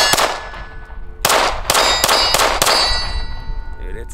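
A Glock pistol fitted with a Printz compensator fires five sharp shots outdoors, one opening shot, a pause, then four in quick succession, each loud and close with a ringing tail.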